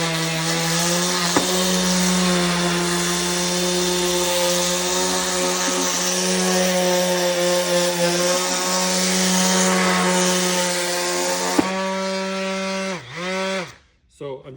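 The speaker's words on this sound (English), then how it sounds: "So I'm just using some very coarse sandpaper on this 5-inch disc sander." A 5-inch disc sander with very coarse sandpaper smooths a blob of epoxy on a wooden dragon boat steering arm, giving a loud, close, continuous motor whine that briefly dips and then winds down near the end.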